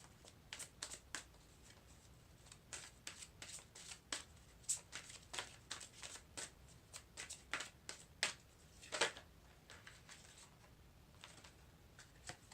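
Fairy oracle cards are dealt and shuffled in a long run of soft, quick snaps and slides, faint and close, each card a brief crisp tick against quiet room noise.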